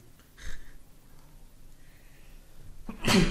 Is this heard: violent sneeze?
yes